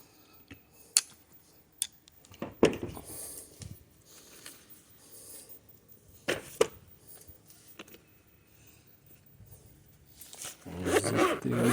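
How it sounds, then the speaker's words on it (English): Zippers on motorcycle bags being pulled closed, several quick separate zips with pauses between, close and fairly loud, ending in a longer rustling handling of the bags. "Zip these up."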